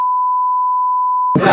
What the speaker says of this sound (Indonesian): Di bip ya.